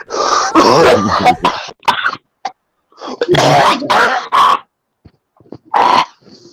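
Several harsh, raspy coughs come in bursts with short pauses between them, close and loud.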